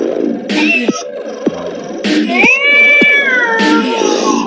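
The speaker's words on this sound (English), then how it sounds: "would you just Meow, meow. Meow, meow." Cat meows from a zombies-mode video game, loud and close, several drawn-out wavering calls in a row with short pauses between them.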